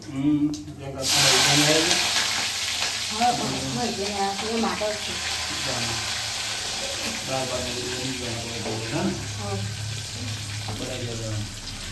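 Steady sizzling of a spice tempering in hot oil, close and continuous, with a voice talking over it throughout.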